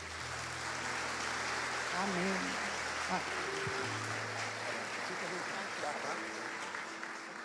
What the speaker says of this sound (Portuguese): Vamos recebê-los com um aplauso, por favor